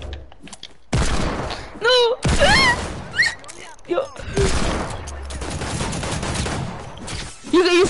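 Bursts of video game gunfire crackle through a tense match, loud volleys starting and stopping among excited shouting and talk from players.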